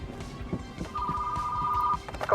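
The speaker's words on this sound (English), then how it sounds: "And I hear the phone." A telephone rings in the retro video store game Retro Rewind, a steady electronic ring sustained for about a second amid light background game sounds and soft footsteps.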